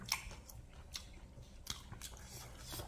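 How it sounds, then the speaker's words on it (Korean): Crisp crunching bites of crispy fried Korean sweet and sour pork with pineapple and vegetables, a few sharp crunches spaced across a quiet, close-up chewing sequence with no talking. "먹어보도록 할게요. 자, 아주 바삭바삭하게 맛있게 튀긴 탕수육"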